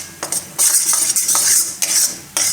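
Water chestnut flour roasting in ghee is scraped and stirred with a utensil in a pan for a sweet shiro, giving repeated bursts of gritty scraping and metallic clinks up close, with no talk.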